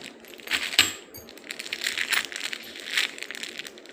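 Old Indian coins handled up close, giving a steady run of light metallic clinks and jingles with a few sharper taps, and no talk over them.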